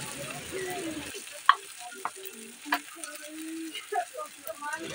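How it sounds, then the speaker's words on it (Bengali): Onion frying in oil with turmeric and salt, a soft continuous sizzle punctuated by several sharp clicks and scrapes of stirring, fairly close and uneven in rhythm. "হলুদ লবণ দিয়ে আমি পেঁয়াজটা এবার ভালো করে ভেজে নেব, যতক্ষণ না লাল লাল করে ভাজা হচ্ছে।"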